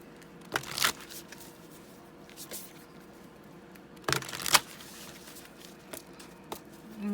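A deck of Moonology oracle cards being shuffled, with a few short riffling bursts near the start and a louder pair of shuffles around the middle, fairly close and otherwise quiet.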